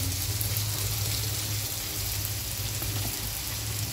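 Onion and tomato for an okra curry sauté in a pan with a steady, close, crackling sizzle that holds at an even level throughout.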